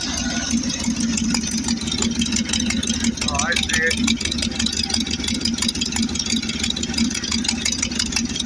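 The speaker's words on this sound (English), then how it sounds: "Got an exhaust leak over here." Steady low chug of an idling GMC 6000 truck engine with an exhaust leak, a rapid ticking puff from the exhaust, close by, while someone speaks briefly.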